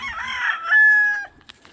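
A Rhode Island Red rooster gives one short, close crow in a backyard poultry yard, loud and clear with no talking over it.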